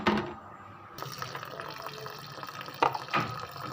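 Boiled elbow macaroni being drained, a soft rush of water pouring and trickling through a strainer, close by with a couple of brief splashes.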